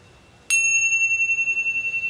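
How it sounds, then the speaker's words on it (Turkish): A singing bowl or meditation bell is struck once after a quiet lead-in, then rings on with a clear, steady, slowly pulsing tone that fades only slightly. "And you just follow the sound of the bell"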